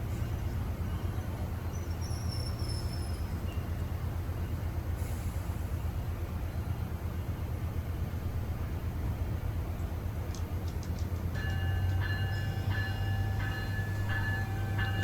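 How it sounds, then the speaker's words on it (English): An LA Metro Rail train passes with a steady, loud rumble and wheel roar throughout, high squealing tones near the start, and rising metallic screeches and ringing tones toward the end, with no talk. "There's another train!"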